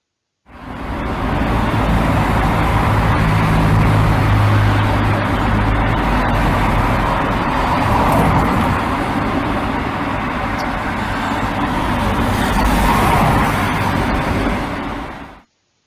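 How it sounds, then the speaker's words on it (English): Car passing by on a street in Toulouse, a broad loud roadway rush building and holding for many seconds before easing, with traffic noise all around and no voices. "the first noisy one with a car passing by"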